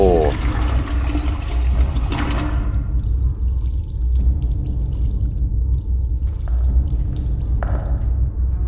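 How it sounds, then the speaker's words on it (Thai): A toilet flushing in the horror video game Forgotten Memories: a burst of rushing water that fades into a quieter trickle, heard over a steady low background rumble. "อันนี้เรากดแล้วนี่โถ"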